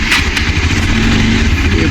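A Bajaj motorcycle engine runs steadily in cold winter weather, a continuous loud mid-range drone with no clear revving.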